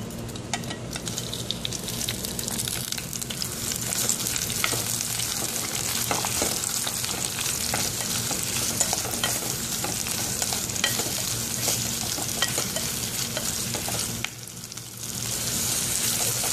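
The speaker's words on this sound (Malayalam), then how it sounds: "ഒരു കുക്കറിൽ വെളിച്ചെണ്ണ ഒഴിച്ച് ചൂടാക്കാം രണ്ട് ടേബിൾ സ്പൂൺ വെളിച്ചെണ്ണയാണ് ഒഴിക്കേണ്ടത്" Onion, green chili and curry leaves frying in hot coconut oil in a pressure cooker, a loud, continuous sizzle with stirring scrapes, briefly dipping near the end.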